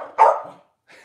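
A corgi gives a single loud, sharp bark close by, then a short pause before a faint second sound starts.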